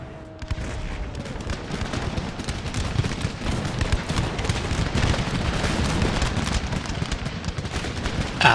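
Musket volleys and artillery fire rumble through a battle in Empire: Total War, a dense, continuous crackle of gunfire with scattered booms, loud and sustained throughout.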